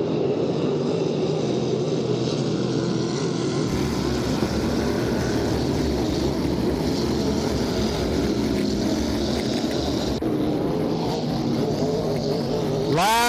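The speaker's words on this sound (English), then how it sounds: "It still looks to me like a solid 2-boat race for first place." Racing boats roar continuously in a race at Brockville, a loud, droning engine wash, steady and dense throughout, with a sweep of rising pitch near the end.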